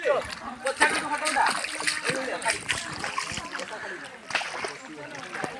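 Waterfall water splashes and babbles at Panchalingeswar, a continuous, lively rush and sloshing of flowing water heard close by, with people talking over it.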